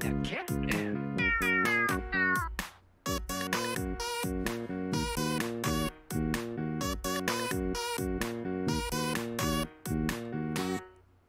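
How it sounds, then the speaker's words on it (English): A cat meows repeatedly in quick, insistent calls, loud and close, with short pauses between bursts and no talking. "There's a cat in my house."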